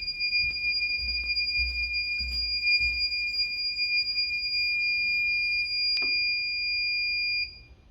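A faulty home inverter showing a short-circuit warning sounds a steady, loud two-tone electronic beep that holds for several seconds with faint low knocks beneath, then cuts off abruptly.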